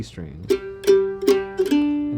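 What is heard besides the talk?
No everyday noises stand out.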